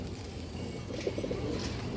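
A female pigeon gives a faint, brief low coo amid steady background noise, with no talk over it.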